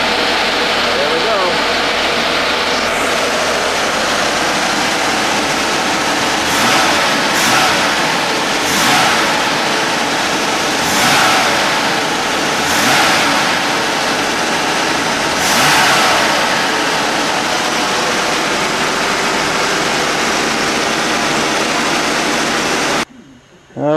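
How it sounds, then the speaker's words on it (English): UltraVan #299 engine running through its initial cam break-in, a loud steady drone with several rising revs and idle dips, close up, cutting off abruptly at the end. "got the engine started, got it running, and at least broke the cam in"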